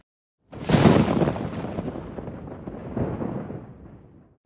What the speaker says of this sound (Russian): А что такое гром, который мы слышим во время грозы?